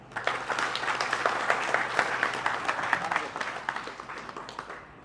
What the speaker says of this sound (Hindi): इसके लिए आप सब लोगों के लिए ज़ोरदार तालियां